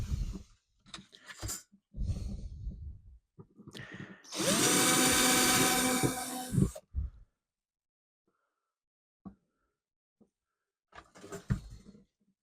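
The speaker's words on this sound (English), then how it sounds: "after drilling the first hole, I'll fix its position." A drill whines for about two seconds, loud and close, while drilling a hole in a guitar bridge, between bursts of handling noise and breathy sounds, then quiet with a few faint clicks.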